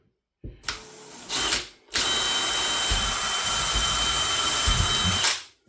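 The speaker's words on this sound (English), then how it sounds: "Sometimes it amazes me that this drill still works." A cordless power drill, old and heavily used, whirs in two short bursts, then runs continuously for several seconds at a high whine before stopping.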